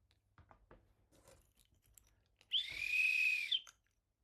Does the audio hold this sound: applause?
no